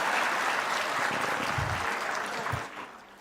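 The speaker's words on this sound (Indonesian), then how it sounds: "Saudara Sanitiar Burhanuddin, kok tepuk tangannya nggak terlalu keras kalau Pak?" Audience applause at a presidential speech during a mass signing for subsidised housing, a broad steady clatter of clapping that fades out toward the end.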